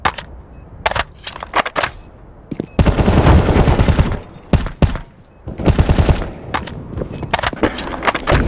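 Gunfire in the video game CS:GO during a pistol round retake: dense volleys of shots in two longer bursts, with scattered single cracks and clicks between them, loud and close.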